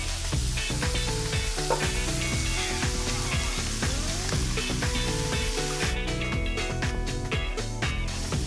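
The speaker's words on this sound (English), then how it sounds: "Go ahead and give that a stir." Braised red cabbage with caramelized onions and apples being stirred in a hot pan, a steady loud sizzle throughout with scraping stir strokes and brief clatters near the end.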